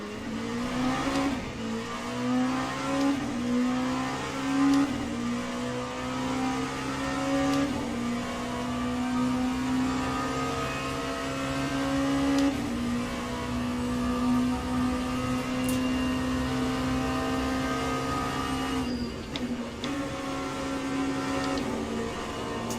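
Race car engine in Le Mans Ultimate lifting off while a Porsche Hypercar passes, a steady loud drone that eases slightly, continuous with no talk.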